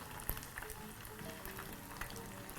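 Fish pieces frying in hot oil in a pan, a quiet, continuous sizzle with a few small pops and clinks, heard alone without talk.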